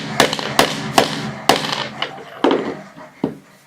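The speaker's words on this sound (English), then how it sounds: "let me just give this 1 or 2 more whacks and then I'll split it" Sharp, hard whacks strike a fidget spinner to split it: about seven loud, separate impacts with uneven gaps, each ringing briefly, with no talking.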